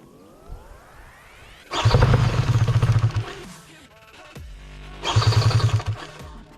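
An AliExpress paramotor engine gets pulled over, catches and roars loudly nearby for about two seconds, dies down, then revs again in a second rough burst.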